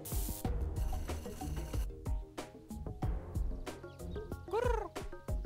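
A cartoon cat in the point-and-click adventure game Deponia meows several times in quick succession, ending in a drawn-out, wavering meow, close and clear with no talking over it.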